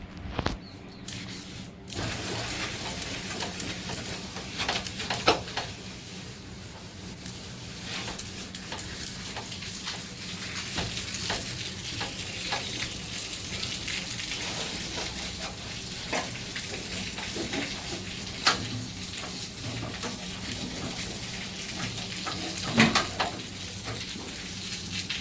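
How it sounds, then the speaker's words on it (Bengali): Kitchen sink being cleaned, with continuous running and splashing water, scrubbing and scattered clatters that stay close and fairly loud throughout, with no talking. "এই যে এখন এই সিঙ্কটা পরিষ্কার করে নিই, এটা পরিষ্কার করব।"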